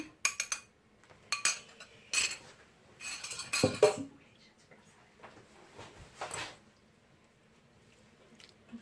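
A spoon scrapes and clinks against a glass bowl or verrine while gently stirring onions into a mixture, with irregular light taps and scrapes separated by short pauses.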